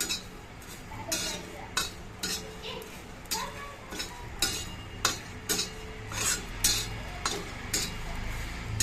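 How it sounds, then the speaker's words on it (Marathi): Dried shrimp roasting on a flatbread griddle, with steady scraping and stirring strokes and light clinks repeating close by over a low background hiss. "त्याच भाकरीच्या तव्यावर मी आता जवळा भाजायला घेतलेला आहे"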